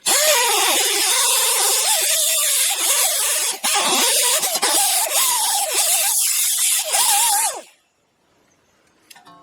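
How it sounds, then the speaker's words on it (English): A rotary tool spinning a cookie wheel whines loudly and steadily with pitch wavering as it scrubs an Audi A4 rear brake caliper piston, running for about eight seconds before cutting off into near silence. "I'm going to take this same cookie wheel on this same tool and just kind of clean things up here"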